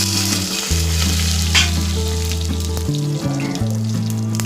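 Cinnamon, fennel and cloves fry in hot ghee with a loud, close, continuous sizzle and occasional stirring, while a steady tonal hum runs underneath.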